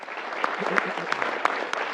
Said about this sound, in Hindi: एक बार इंडिया के लिए तालियां होनी चाहिए।